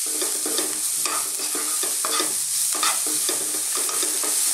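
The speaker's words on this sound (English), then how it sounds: "we're just going to throw these around in the pan on a kind of fairly lively heat" Vegetables seasoned with oregano and black pepper tossed in a pan over fairly high heat, a continuous sizzle with rhythmic, evenly spaced stirring scrapes every half second or so, close and loud, no voices.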